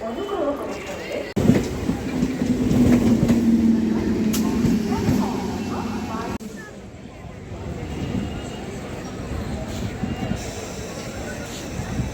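A Howrah–Goghat local train rolls along with a steady low rumble and rattle of carriages, loud and continuous, with a brief tonal hum early on and muffled chatter from passengers beneath.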